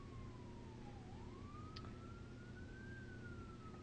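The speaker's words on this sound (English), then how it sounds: "There's an ambulance." An ambulance siren wails faintly in the distance, one slow rising and falling tone over a steady low hum of background noise.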